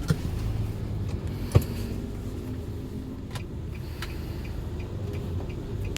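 Used Nissan Livina with a CVT automatic gearbox on a test drive, heard as a quiet, steady interior road rumble with a few faint clicks and a single sharp knock early on, no talking.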